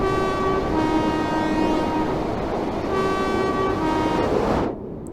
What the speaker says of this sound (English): I'm intrigued to see what the horn sound is like on this, as we're going through quite a deep cut-in by the looks of it.